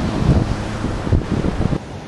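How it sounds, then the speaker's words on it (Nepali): Gusty wind at a suspension bridge over a river in the hills between Mongar and Lhuentse, with low rumbling buffets against the microphone in uneven surges that drop away briefly toward the end. "कस्तो हावा चलिरहेको छ नि त्यहाँबाट कस्तो"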